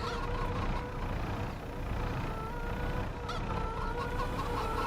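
Chickens in Farming Simulator 25, on the Chipping Norton map, cluck in a dense, continuous flock chorus that stays steady and fairly loud throughout, with no speech.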